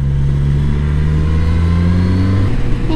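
A Suzuki Katana motorcycle engine hums loudly and steadily as it rides, its pitch rising smoothly before settling back as the gear shifts.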